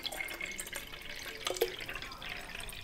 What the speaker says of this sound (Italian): la andiamo a riempire come sempre con i nostri 450 ml di acqua